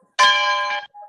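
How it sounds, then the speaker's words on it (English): A single bell strikes once, bright and ringing, sustaining briefly before cutting off, followed by a faint short tone. "let's ring the bell"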